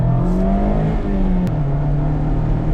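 A 2024 Mazda ND3 MX-5 RF engine revving hard toward its 7,500 rpm rev limiter, a loud, close, rising engine note with a brief dip around a gear shift, then continuing to climb.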